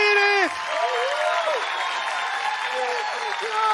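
A television studio audience applauds and cheers for the musician, with a steady wash of clapping under a sung melody and a voice over the top.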